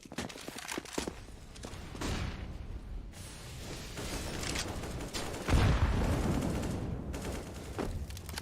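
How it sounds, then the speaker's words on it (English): Counter-Strike gunfire on the Overpass map in a StarSeries i-League qualifier match, rapid volleys of shots and bursts close by, some heavier booms, with dense crackling throughout. "Shots early on by Bubsky."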